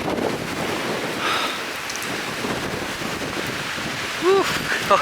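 Strong wind of around 50 mph gusts by high winter water, a steady broadband roar with surf-like wash throughout, rising briefly near the end alongside a few faint tonal chirps.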